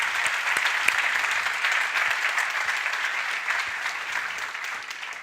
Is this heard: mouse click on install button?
no